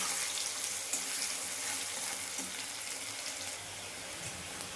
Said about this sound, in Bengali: দিয়ে এটাকে ভালো করে আমি এবার ভেজে নেবো পেঁয়াজটাকে